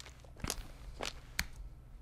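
Hard-sole shoes step on pavement three times at an uneven pace, each footfall a short, crisp click, quiet and alone against a low background hiss.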